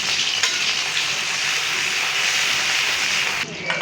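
Green chilies hit hot oil in a heated kadai and fry with a loud, steady hiss and sizzle, with faint stirring clinks, before the sound drops off abruptly near the end.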